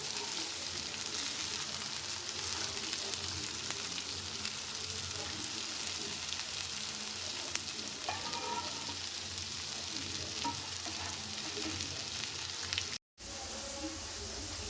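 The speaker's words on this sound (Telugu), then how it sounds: "మనం మొలకలన్నీ ఫ్రై చేసుకోవాలండి" Sprouted grains fry in a pan with a dense, continuous sizzle and crackle that holds steady and close. It breaks off for an instant near the end, then resumes.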